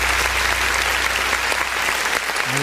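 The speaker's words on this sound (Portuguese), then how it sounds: "Vamos aplaudir o nome do Senhor." Congregation at an online church service applauding steadily and loudly, a dense continuous wash of clapping with no voices over it.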